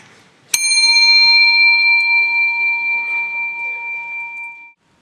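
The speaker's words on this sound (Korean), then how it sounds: "자, 여기 종이 있어요. 종." A single bell is struck once, giving a sharp metallic strike followed by a clear, sustained ringing tone with bright overtones that slowly decays over about four seconds.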